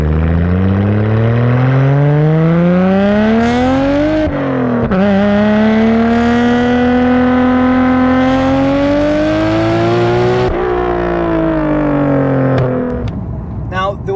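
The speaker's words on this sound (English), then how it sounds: "There was the most popular one, the Tomei exhaust, which actually sounds nice." Nissan Skyline R33 GTR with a Tomei exhaust, revving loudly and steadily through a long rising engine note, dipping briefly and climbing again before easing off near the end.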